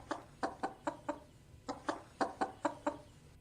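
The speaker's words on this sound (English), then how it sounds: "I'm gonna play a chicken sound for you, Bird." A played recording of a chicken clucking gives a run of short, sharp clucks in two bursts of about five, evenly spaced, quiet against a low hum.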